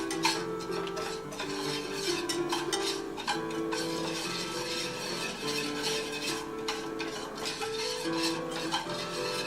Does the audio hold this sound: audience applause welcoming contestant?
no